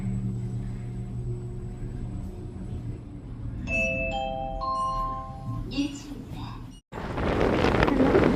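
Gusty wind rumbles against the microphone throughout, broken by a few brief electronic tones midway, then a stronger, noisier gust near the end.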